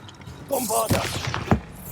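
A Bombarda blasting spell is cast in Hogwarts Legacy, giving two short, sharp blasts about half a second apart after a brief tonal shimmer, moderately loud against a quiet background.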